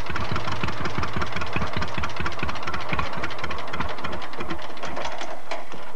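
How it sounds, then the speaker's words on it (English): A John Deere Model B Lindemann Crawler, the track-laying version of the two-cylinder tractor, runs on a hot day in Iowa, its engine putting out a steady, loud, close chugging pulse with a rapid regular beat. "This is the track-laying version of the Model B, and it's generally known as the Lindemann Crawler."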